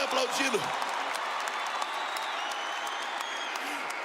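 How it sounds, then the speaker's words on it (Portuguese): Applause from a large crowd at a Catholic gathering, a broad wash of clapping under a preacher's amplified voice urging the audience on, with faint cheers. "Pode aplaudir, pode aplaudir, pode aplaudir, pode aplaudir, vai aplaudindo"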